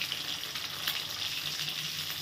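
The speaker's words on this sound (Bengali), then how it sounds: "চিকেনটা এখন ভাজা হোক, একটু লাল হলে আমি চিকেনগুলো তুলে নেব।" Chicken pieces fry in a pan with a soft, even sizzle and faint crackling, steady and fairly quiet, with no talk.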